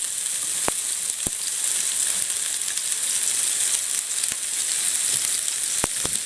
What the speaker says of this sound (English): And I'll throw these onions in,